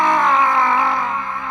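A man lets out a long, strained, anguished scream of regret, loud and close, wavering and fading slightly over its second and a half.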